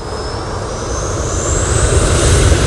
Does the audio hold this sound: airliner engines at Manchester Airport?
yes